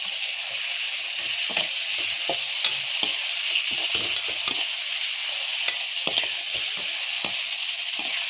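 Tomatoes and green chillies sizzle and hiss in a pan of browned onions for a vegetable semiya dish. A loud, continuous frying hiss runs throughout, with scattered clicks and scrapes from stirring.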